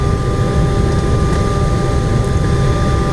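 Airliner cabin rumble while taxiing out of Austin, Texas before takeoff: a loud, steady low engine roar with a faint constant whine, continuous throughout.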